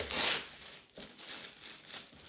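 Box packaging for a 1:18 scale Norev Mercedes-Benz AMG GT 63 S 4Matic model car being cut open, with crinkling, rustling cuts and a brief pause midway, close and fairly quiet, no talking.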